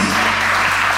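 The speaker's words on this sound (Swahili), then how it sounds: "Chapia Yesu makofi mazuri." A congregation claps steadily in a church gospel service, a dense wash of applause filling the whole moment without pause.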